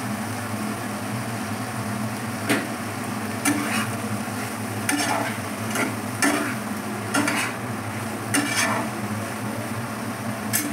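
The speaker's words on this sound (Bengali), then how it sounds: "আমার টমেটো আর ক্যাপসিকামটা ভাজা হয়ে গেছে। এবার আমি দিয়ে দেবো পনিরটা, দিয়ে দেবো কাঁচা লঙ্কাগুলো আর দিয়ে দেবো ধনে পাতাগুলো।" Paneer, green chillies and coriander leaves stirred into frying tomato and capsicum in a pan: a steady sizzle broken by about a dozen sharp spatula scrapes and stirring strokes, close and fairly loud.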